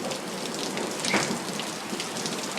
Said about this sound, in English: So it is raining so hard right now.